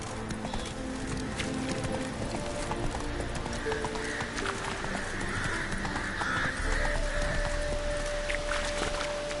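Hooves of Geralt's horse Roach from The Witcher 3 clip-clop in a steady galloping rhythm, close and continuous over a busy background of game ambience, with a brief whinny.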